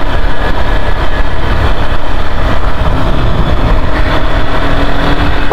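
A new sports motorbike engine runs steadily and loudly throughout, a constant low rumble with no breaks while the bike is ridden outdoors.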